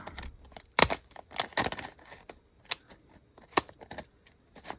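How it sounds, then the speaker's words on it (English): Scissors that are not very sharp snip through paper in a series of uneven, close-up cuts, with short pauses between bursts. "Let me try my scissors here."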